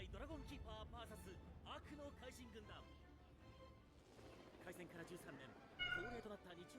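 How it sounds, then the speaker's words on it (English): A cat meows and yells insistently in the background of a room. Its cries repeat under a person's continuous talking. "my cat is yelling"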